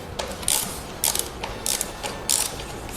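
A screwdriver tightens the battery bracket bolt on a Honda Monkey motorcycle, giving a series of quick ratcheting clicks in short bursts, close up with no talk.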